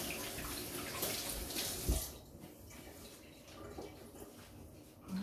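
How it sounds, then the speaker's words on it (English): Tap water runs for hands being washed of oil while making unicorn piped soap with embeds, a close, loud gushing splash that then drops to a quieter, steady trickle. "I'm just going to wash my hands because it looks like I've got some oil on them."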